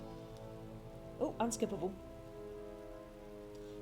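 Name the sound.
rain falling in Final Fantasy XII video game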